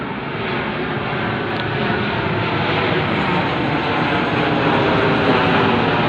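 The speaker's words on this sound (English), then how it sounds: "they have the patrol planes over your head" A patrol plane drones overhead, a loud, dense, continuous engine roar holding steady throughout with no talk.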